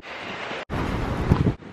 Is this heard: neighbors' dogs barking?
no